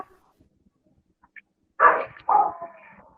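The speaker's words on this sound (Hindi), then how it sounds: "बाहर कुत्ता भौंक रहा है" A dog barking outside, two short sharp barks close together after a mostly quiet stretch, moderately loud and slightly distant.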